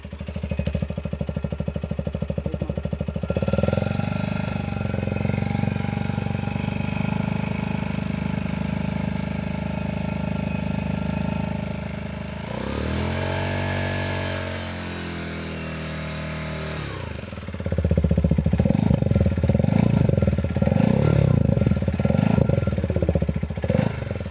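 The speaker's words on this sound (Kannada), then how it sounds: "ಎಕ್ಸಾಸ್ಟ್ ಯಾವ ಥರ ಬರುತ್ತೆ ಅಂತ ತೋರಿಸ್ತೀನಿ, ನಾಯ್ಸ್ ಹೆಂಗೆ ಬರುತ್ತೆ ಅಂತ ತೋರಿಸ್ತೀನಿ" A TVS Apache RTX300 motorcycle runs loudly nearby with a deep, throbbing exhaust note, idling steadily, briefly revving mid-way, then settling into a heavier, rumbling idle.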